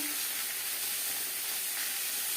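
A ground green chilli and ginger paste fries in oil with turmeric powder for a Bengali katla fish curry, giving a steady, even hiss of sizzling and steam, close and unbroken, with no voices.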